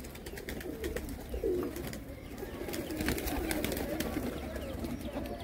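Pigeons kept in several rooftop lofts coo steadily at close range, low repeated calls layered over one another without pause, with faint bird chirps and background noise but no talk.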